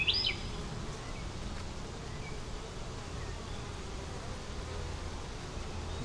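Bees hum in a faint, steady drone around an open beehive with eggs, larvae and honey frames, a low continuous buzz with one brief higher whine near the start.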